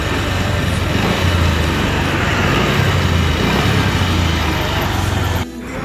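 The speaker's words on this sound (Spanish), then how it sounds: "lo que no me gusta es esa vibración muy fuerte que tiene el motor" A Bajaj Pulsar 150 motorcycle engine idles close by around 1000 RPM, a loud steady rumbling drone with strong vibration and a slight irregular pulse, cutting off near the end.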